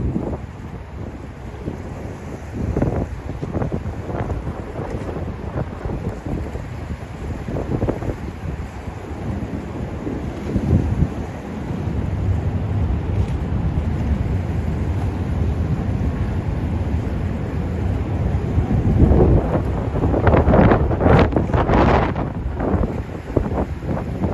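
Strong wind buffets the microphone near the Brooklyn Bridge in Lower Manhattan, a loud, rumbling roar that surges and gusts throughout, heaviest toward the end.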